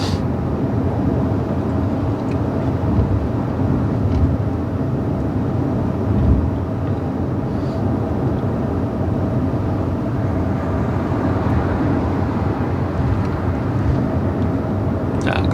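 A car climbing uphill under acceleration during a driving lesson in Busan, giving a steady, loud low engine and road drone from inside the cabin with little change throughout.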